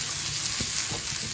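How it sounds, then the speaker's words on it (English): Plantain chips sizzle in hot coconut oil in a pan with a steady, dense frying hiss, close and even throughout, and no talking. "just add your plantain chips here. If you make this sizzling noise,"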